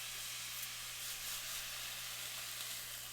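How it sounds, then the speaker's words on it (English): Steaks and peppers sear in a hot pan, giving a steady, quiet hiss of sizzling that holds even throughout with no talking. "Let the peppers simmer for a bit."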